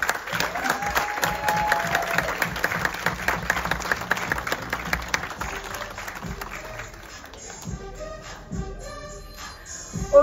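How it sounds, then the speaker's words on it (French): Thunderous audience applause at a Black Connexion event, a dense continuous wall of many hands clapping that swells and then thins toward the end, with a few voices faintly audible in the crowd. "je vous demande s'il vous plaît un tonnerre d'applaudissements pour Alpha Nori"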